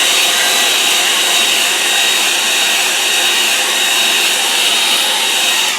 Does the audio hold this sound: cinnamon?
no